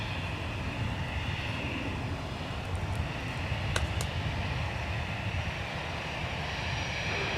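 Steady roar of aircraft at Minneapolis–St. Paul Airport, a broad continuous engine rumble and rush from the runway, with a couple of brief faint clicks partway through.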